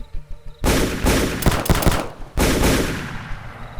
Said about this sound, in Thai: เสียงปืนหลายชนิดแข่งกันคำรามขึ้นเป็นยกที่สอง